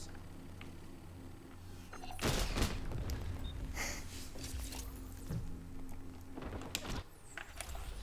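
Gunfire and a grenade blast in the shooter game XDefiant, played on Xbox Series X: a sudden loud burst of rapid shots and an explosion, then scattered fainter shots and clanks over quiet game ambience.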